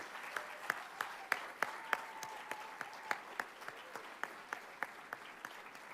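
Sparse, quiet applause from a dinner audience at a community college awards celebration, with a steady run of distinct individual claps at a moderate distance.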